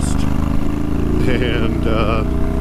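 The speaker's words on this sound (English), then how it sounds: "we put that delicious sounding shorty exhaust" A 2023 motorcycle fitted with a shorty exhaust runs loud and close, its engine throbbing with a deep, steady note and slight revving shifts.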